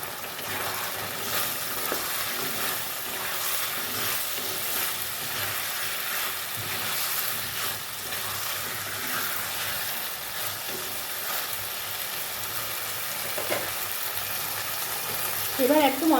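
Vegetable stalks fry with a spice paste in a pan, giving a continuous close sizzle and hiss with occasional stirring scrapes and small clinks, and a faint voice now and then.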